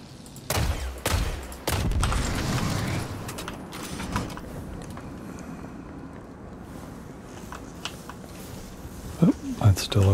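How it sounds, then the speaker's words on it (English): Gunfire aimed at a conduit in the video game Destiny 2, a series of sharp shots in the opening seconds and again near the end, with game mechanisms rumbling underneath and no talk. "I need to shoot this conduit."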